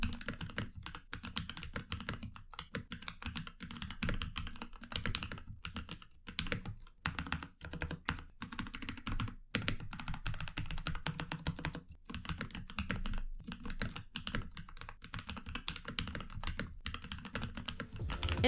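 A Keychron K8 mechanical keyboard after a foam mod, typed on in a fast, continuous stream of close, slightly muted and softer keystrokes with short gaps and no talking.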